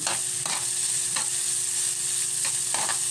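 Chopped onion and garlic sauté in a pan with a steady, close sizzle throughout. Several soft scraping strokes of a spoon stirring come at irregular intervals, with no voices.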